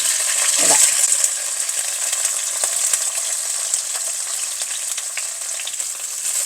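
Garlic frying in hot oil with popping mustard seeds and fenugreek for a Kerala-style gooseberry pickle, a steady close sizzle throughout after a brief clunk at the start.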